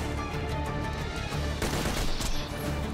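Gunfire in the video game Borderlands 2 during a Tiny Tina's Assault on Dragon Keep session, a burst of fairly quiet rapid shots blurring together, heavier toward the second half.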